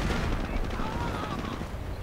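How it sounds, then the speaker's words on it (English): Anti-tank gun firing at a Panzer IV in a WWII strategy game, a dense rumbling battle bed of booms and shots heard under a commentator's steady talk. "Now it's a duel between the Panzer IV and the anti-tank gun"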